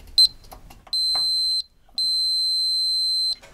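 A continuity tester beeps while testing a plenum thermostat: one quick chirp, then two long steady high-pitched tones with a short gap between them, loud and clean with no talking.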